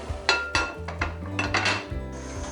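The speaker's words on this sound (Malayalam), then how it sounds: "നമുക്കൊന്ന് മൂടി തുറന്ന് നോക്കാം." A pot lid comes off a pot of vegetable pulao with a run of close, ringing metallic clanks and knocks, several in quick succession.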